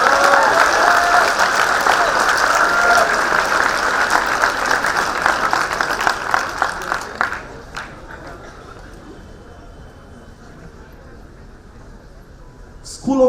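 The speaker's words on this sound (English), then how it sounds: "Can we have a little more thunderous round of applause" Strong audience applause at a fintech conclave, dense clapping for about seven seconds, then thinning to scattered claps and room murmur.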